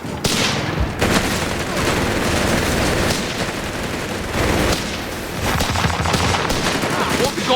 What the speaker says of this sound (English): MG's opened up on us!